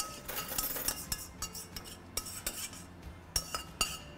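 Metal spoon clinking and scraping in a baking dish while mushrooms stuffed with spinach are prepared, giving a string of faint, irregular close taps and light scrapes with no talk.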